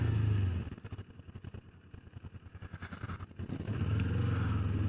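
Kawasaki Ninja 400 motorcycle under way, the engine loud and close with a rapid pulsing drone that dips, chatters while off the throttle and swells back up, no voices.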